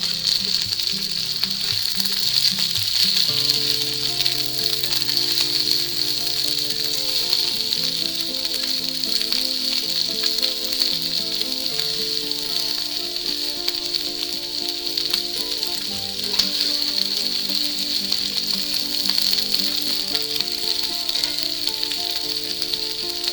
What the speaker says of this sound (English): we're going to take all our nice onions we chopped up and we're going to put them right in there